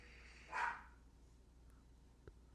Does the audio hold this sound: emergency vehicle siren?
no